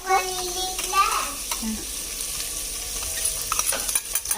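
Onions frying in a pan with garlic-ginger paste, stirred by hand: a close, steady sizzle with scraping stir strokes, and faint voices in the background early on.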